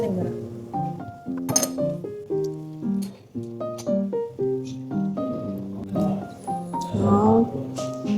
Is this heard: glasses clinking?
yes